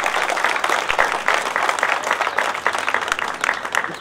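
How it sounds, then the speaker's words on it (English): A crowd applauds the Portuguese communities at a Portugal Day celebration in Lowell, Massachusetts, with dense, loud, continuous clapping from many hands throughout. "a grand round of applause for the Portuguese communities"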